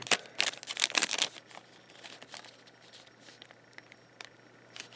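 Scissors cut open a Pokémon card booster pack with a burst of crinkling foil and snipping, then quieter scattered rustles and handling sounds up close.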